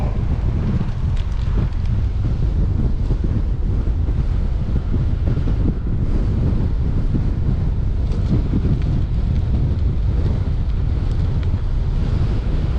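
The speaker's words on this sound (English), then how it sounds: "it is very windy" Strong wind buffeting the microphone during an e-bike ride in Calgary, a loud continuous roaring rumble with no speech.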